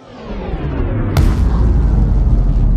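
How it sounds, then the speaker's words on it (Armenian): A watermelon bursts in slowed-down playback: a deep, drawn-out rumbling boom swells, is punctuated by a sharp crack, then rolls on as a low, heavy roar. "Տեսնենք ոնց է պայթում դանդաղացած կադրով։"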